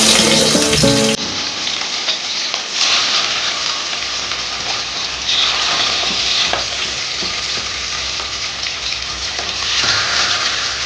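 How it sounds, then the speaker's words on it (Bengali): Katla fish rubbed with salt and turmeric frying in hot mustard oil in a wok, a loud, steady crackling sizzle throughout after a brief burst at the start, with no talking. "লবণ হলুদ দিয়ে মেখে রাখা মাছগুলো দিয়ে দিলাম"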